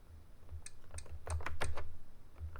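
Keys clacking on an Elan Enterprise 128 home computer keyboard, a string of quick, close, distinct taps in an uneven rhythm, with no one talking.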